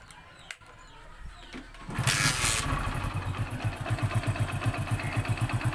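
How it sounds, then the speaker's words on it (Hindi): A motorcycle that smokes and loses engine oil fires up after a quiet lead-in, with a burst of cranking and revving, then settles into a close, steady, rhythmic idle thump. "मैं आपको इस इंजन का साउंड सुनाता हूँ"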